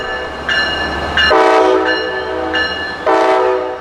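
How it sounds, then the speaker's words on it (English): A Brightline passenger train sounds a few short horn blasts at a road crossing, loud and close, with steady rail rumble underneath between the blasts. "The engineer is giving him a little horn anyway, just to make sure."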